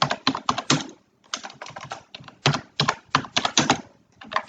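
Fingers type in quick bursts on a computer keyboard, close and crisp clicking clusters separated by short pauses.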